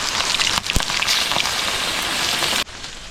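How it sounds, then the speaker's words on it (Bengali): Heavy rain pours down in a dense, steady hiss of drops striking surfaces close by, with a few louder splats, then cuts off abruptly near the end. "এই বৃষ্টির মধ্যে ডাইরেক্ট জল পড়তেছে"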